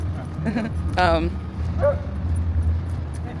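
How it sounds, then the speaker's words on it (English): A dog gives a couple of short yips and barks amid background noise and nearby voices, with a low steady rumble underneath. "I think he just barked."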